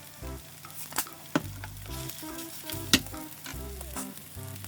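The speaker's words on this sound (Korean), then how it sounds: "케찹 한 스푼, 간장 한 스푼, 깨 약간 뿌려주시고 계속 볶아주세요." Rice stir-frying in a pan with ketchup and soy sauce, a soft steady sizzle broken by the scrape and tap of a utensil against the pan, with a few sharp clinks.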